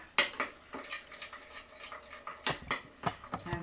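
Spoon stirring a teaspoon of brown sugar into Thai peanut sauce made with soy sauce, heard as close, intermittent clinks and scrapes of a utensil against a dish, with no talking.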